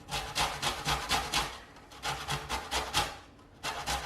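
Half a lemon and half a lime being scraped over a grater for zest, a close rhythmic rasping in repeated strokes with short pauses between bursts.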